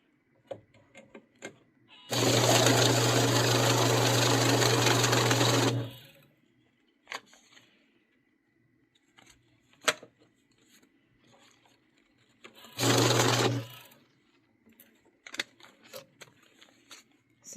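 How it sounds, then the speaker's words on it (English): A money counter machine riffles through a stack of cash bills in a loud, steady whirring burst of about four seconds, then runs again in a shorter burst, with light handling clicks between. "This is why I use the money counter machine, because it counts the money for me"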